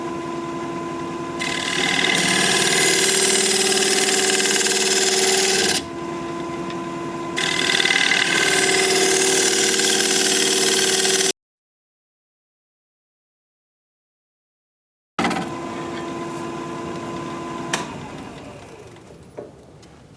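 A wood lathe spins an end grain, live edge winged bowl at about 1,140 RPM, a loud steady whirring hum with tool-on-wood scraping, cut by one long dead-silent gap before the turning resumes.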